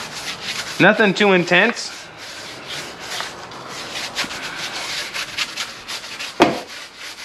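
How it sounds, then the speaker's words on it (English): Scrubbing of car tires during a rinseless wash, a repeated rough rubbing and brushing texture in short strokes, close to the microphone, with a brief spoken remark at the start. "I'm gonna scrub them down like this."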